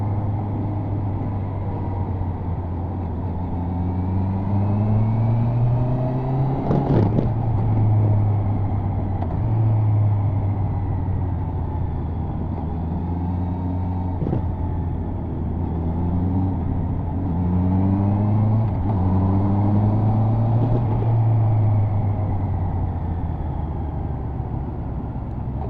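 A Honda motorcycle with E-Clutch downshifts and engine-brakes, its engine pitch sweeping repeatedly up and down in a loud, steady drone with brief sharp clunks between gear changes.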